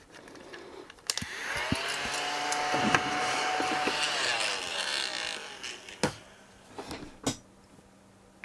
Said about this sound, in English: I'm just going to use a keyboard hoover to see if I can get that out